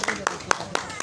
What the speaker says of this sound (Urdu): ان دو بچوں کے لیے بھرپور کلیپ کیجیے گا